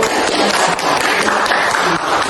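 Audience applause filling a room during a teacher training session, a dense steady patter of clapping hands that holds at an even loud level throughout, with a faint voice mixed in.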